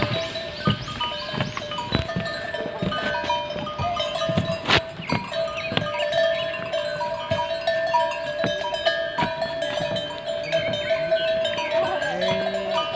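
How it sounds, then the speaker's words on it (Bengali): Bells on the necks of cattle grazing outdoors clang and clink irregularly, some close and loud, others fainter, forming a continuous metallic jangle with faint voices in the background. "গরুগুলোর গলায় ঘন্টার আওয়াজ"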